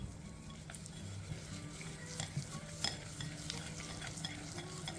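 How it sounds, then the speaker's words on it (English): A spoon stirs caster sugar and vanilla together in a bowl, giving a steady close scraping and swishing that runs without a break and gets a little louder toward the end, with no talking. "And now I'm just going to stir this together."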